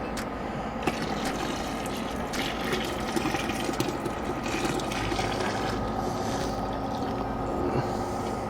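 Dissolved liquid malt extract in hot water pours into a brew kettle for an amber ale, a continuous close splashing gush with a low steady background hum.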